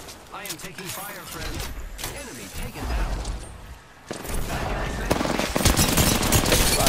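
Gunfire in a shooter video game, dense bursts of automatic shots and rattling mechanisms layered under hurried speech, growing louder and more continuous in the second half.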